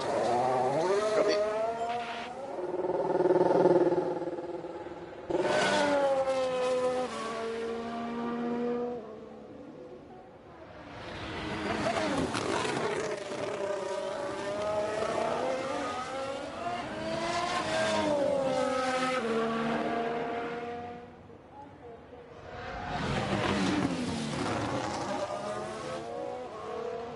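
F1 Manager 23 cars lap the Hungaroring in hardcore mode, with engines rising and falling in pitch through upshifts and downshifts. The cars pass close and loud in long repeated sweeps with brief easing between them, and no voices.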